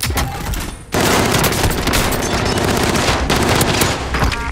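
Rapid machine-gun fire from a video game bursts in loud and dense after a short lead-in, then continues almost without pause in a sustained, crackling barrage.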